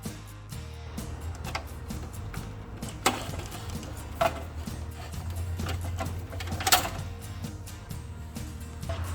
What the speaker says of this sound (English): let's go ahead and remove it by loosening up the plastic clamp here by removing those two screws right there